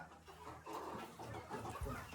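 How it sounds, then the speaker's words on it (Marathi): A hen clucks softly amid a noisy, crowded background, the calls low and partly masked by ambient bustle. "ही बघा कोंबडी."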